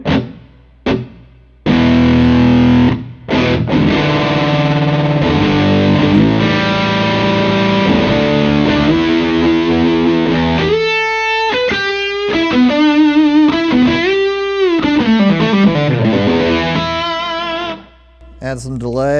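Electric guitar through a pedalboard with a creamy, Marshall-like overdrive, modulation and reverb, plays full strummed chords that give way to ringing single-note melodic runs, loud and near, with a short pause near the end.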